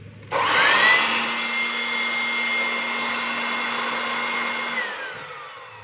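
A DeWalt DWB6800 blower with a newly replaced armature starts with a sudden whoosh and keeps running steadily at close range, holding a strong, even airflow roar with a faint motor whine before easing off near the end.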